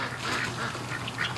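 Ducks quack repeatedly in a tub at close range, a busy, overlapping series of nasal calls with no voices heard.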